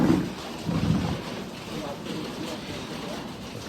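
Rain falling in Harsil Valley, Uttarakhand, mixed with snow, a constant soft patter and hiss with a few low rumbling bursts near the start and a voice talking over it.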